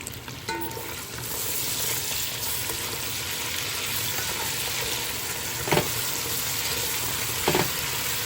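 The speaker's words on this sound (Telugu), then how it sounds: "దీనిలో నేను ఇప్పుడు అల్లం వెల్లుల్లి పేస్ట్ వేస్తున్నానండి." Ginger garlic paste sizzling in a hot pan for a vegetable pulao, a steady close frying hiss with a couple of faint clinks from stirring, no voices.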